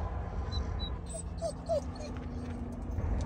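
A dog eager to get outside first thing in the morning whimpers and yips in short high whines, close by over a steady low background hum.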